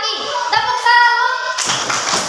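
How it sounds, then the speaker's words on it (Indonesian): Children in a classroom perform a "tepuk salut" clapping chant: several young voices chant together in unison, then a burst of close, dense group clapping follows for the final second. "kita berikan tepuk salut ke Mas Zaki"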